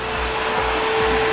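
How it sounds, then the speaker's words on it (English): Canister vacuum cleaner running in an office during commercial cleaning, a loud steady motor roar with a constant whine and soft rhythmic thumps as the nozzle moves. "then we come with the vacuum"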